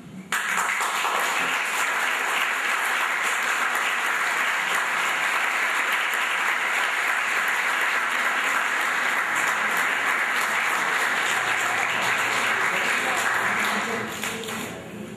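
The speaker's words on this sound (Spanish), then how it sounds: "yo le pido que la aplaudan." A large audience at an institutional conference on child institutionalization and adoption in Rosario applauds a family, sustained dense clapping that fills the room for about fourteen seconds before tapering off, with little talk beneath it.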